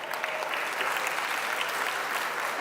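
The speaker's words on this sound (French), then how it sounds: "Ça mérite d'être applaudi." A seated audience at a talk on Torah and neuroscience breaks into applause, an even, sustained patter of many hands clapping at moderate distance with no voices on top.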